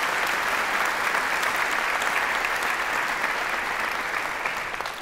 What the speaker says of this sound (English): that's worth a big round of applause for their achievements